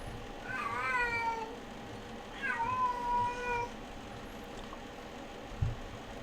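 A cat meows twice, drawn-out and wailing, close to the microphone over a quiet background.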